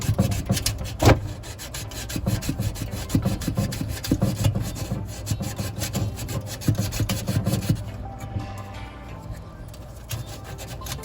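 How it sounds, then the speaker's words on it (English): Sandpaper rubs back and forth against a refrigerator's metal evaporator coil in quick, uneven scratchy strokes, close and fairly loud, slowing and fading toward the end. "I'm sanding on the coil as best as I can"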